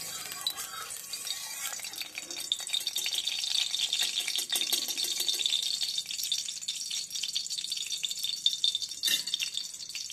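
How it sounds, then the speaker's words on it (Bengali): Hilsa fish frying in a little oil, a steady close sizzle and crackle with small clinks of a pan or utensil, no voices. "ইলিশ মাছ ভাজার জন্য অল্প তেল দিলেই হয়, বেশি তেলের প্রয়োজন লাগে না"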